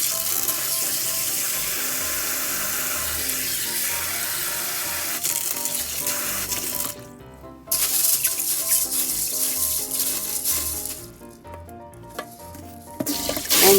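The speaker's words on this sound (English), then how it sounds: "First, wash 2 cups of azuki or red beans." Water sloshing and splashing steadily as azuki red beans are stirred and rubbed by hand while being washed, close up, with a couple of brief pauses.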